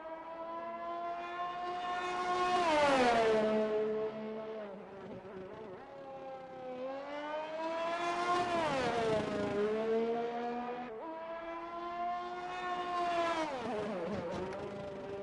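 A Red Bull race car in sim racing at Imola, its engine climbing and falling through gears in three long sweeping passes, steady and fairly loud with no talk over it.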